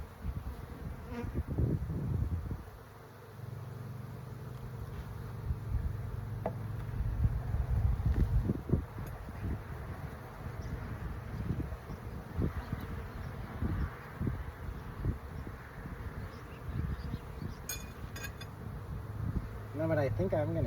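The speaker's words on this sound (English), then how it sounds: "The bees are still alive." Continuous buzzing of many honey bees up close, a dense droning swarm with occasional louder passes near the microphone.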